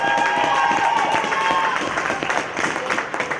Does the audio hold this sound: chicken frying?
no